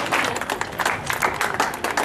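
An audience claps at a prize-giving ceremony for a Diwali rangoli competition, with dense, steady applause throughout.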